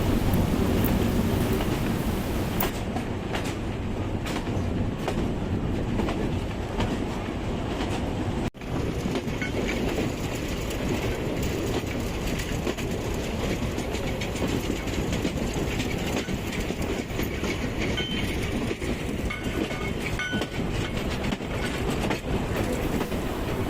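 A steady, dense rumble and clatter of a train rolling along rails near Ambarawa station, Indonesia, continuous throughout with a sharp click partway through.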